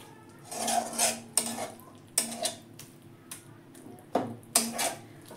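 A spoon clatters and scrapes against a pan as curry ingredients with grated coconut and red potato are stirred and sautéed, several distinct metallic knocks and scrapes in an uneven rhythm over a faint sizzle, close by with no talking.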